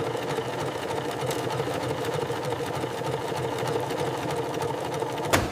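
An industrial sewing machine stitches leather in a modern automated tannery, running with a steady, rapid mechanical hum and whir throughout, with a brief sharp click near the end.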